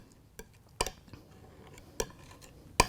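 Paint being mixed on a palette with a knife or brush, a few sparse sharp clicks and scrapes spaced apart over a quiet background.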